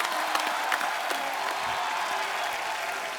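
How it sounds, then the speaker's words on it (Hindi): A studio audience claps steadily for a film team on a television show, dense even applause throughout, moderately loud with no voices over it. "एक बार पूरी सैराट टीम के लिए जोरदार तालियां हो जाएं।"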